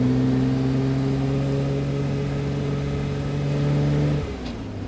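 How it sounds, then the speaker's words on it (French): A 124-horsepower car engine holds a steady, humming drone as it accelerates, then the pitch drops and the sound eases off abruptly near the end. "Moi j'aime bien ça quand t'accélères"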